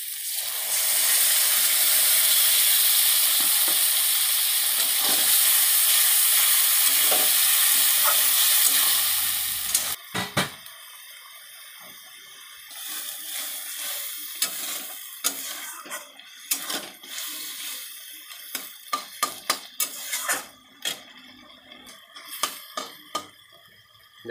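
Spices, including Kashmiri chilli powder, fry in a pan for village-style ghugni with a strong, even sizzle for about ten seconds, followed by scattered scraping and clicking as a spoon stirs the gravy against the pot.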